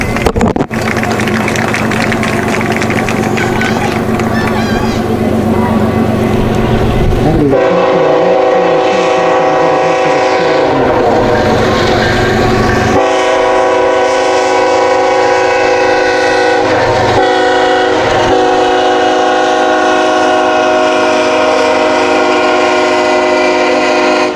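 A loud train rumbles past continuously near a high school senior night sports event, with a long, sustained horn blast sounding over the steady clatter of the rail cars.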